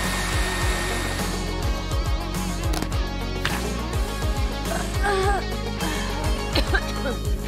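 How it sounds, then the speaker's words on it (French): A hair dryer blows with a steady whirring roar, its pitch wavering as it moves, while a voice talks over it. "Et on le passe facilement au sèche-cheveux"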